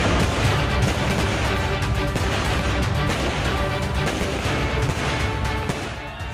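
Dense, continuous barrage of fireworks crackling and booming in Srinagar streets during a celebration of a Pakistan cricket win over India, loud and unbroken throughout.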